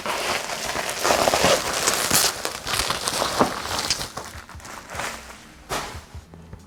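Packaging for a jellyfish lamp crinkles and rustles as it is unwrapped, a steady stream of crackly paper and plastic handling sounds with a few sharper snaps, fairly close and without talk.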